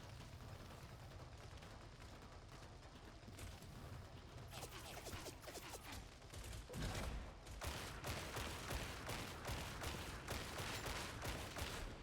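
Enemy ranged gunfire in Warhammer 40K: Darktide, a loud, dense barrage of shots and impacts that thickens into a sustained, rapid fusillade partway through, with no speech over it.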